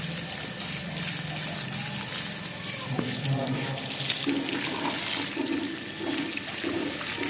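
A steady stream of water pours and splashes onto coconut saplings planted in garden soil, a continuous rushing flow heard up close with no voices.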